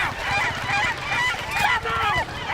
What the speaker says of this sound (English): The seagulls is coming.